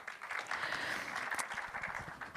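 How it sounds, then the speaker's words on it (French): A conference audience at a forum on floods, fires and territorial protection gives brief, faint applause, scattered clapping in a large hall lasting a couple of seconds. "vous pouvez applaudir si vous le souhaitez"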